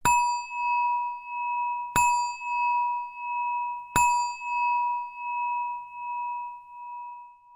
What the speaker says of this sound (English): A 60-minute meditation timer, beginning and ending with 3 chimes